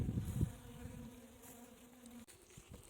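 Honeybees hum steadily around an open hive during a spring queen check, a soft, close, continuous buzz with a louder burst at the start and no talking.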